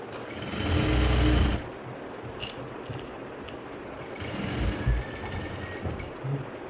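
A sewing machine runs long basting stitches on blouse fabric in a home stitching class, a loud rapid whirring burst early on, then quieter intermittent runs and handling.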